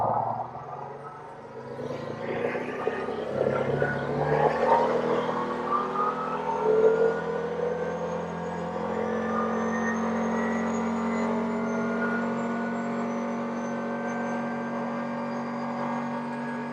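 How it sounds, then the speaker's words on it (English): A few cars pass on a road, a broad whoosh swelling and fading early on, while the nearby engine of a 2023 Kawasaki Teryx4 side-by-side hums steadily and rises slightly in pitch, with no voices. "we got another car, a couple more cars coming"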